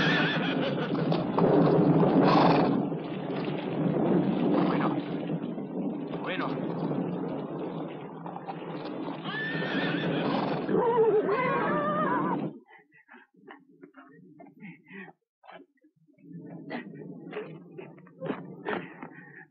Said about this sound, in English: Quick, bring the horses to the step.